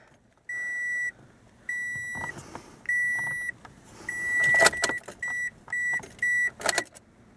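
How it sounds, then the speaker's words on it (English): Dashboard beeps come from a car as its ignition turns on during an oil-life reset. Evenly repeated chimes sound close by, with mechanical clicks and a whirring motor in between. "hold this button down while I turn the vehicle on"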